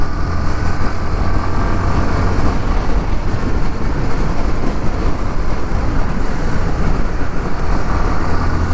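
A 2023 Yamaha Lander 250 motorcycle is ridden on the road, giving a constant engine drone mixed with heavy wind rush, loud and unbroken, with no one talking.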